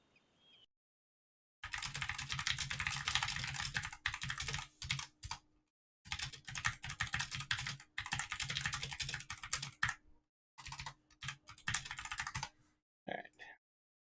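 Rapid, dense keyboard typing and clicking while playing Lord of the Rings Online comes in several long bursts separated by short silences, close and steady, with a faint hum underneath and no talking.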